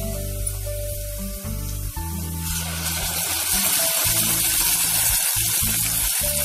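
Ground spice paste hitting hot oil and golden-fried onions for paneer masala, with a loud, steady frying sizzle that swells and roars after a couple of seconds, close up and alone.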